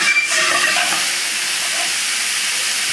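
Ground hamburger beef sautes over a high flame in its own fat with no oil, giving a loud, steady, close-up sizzle that runs on its own without pause.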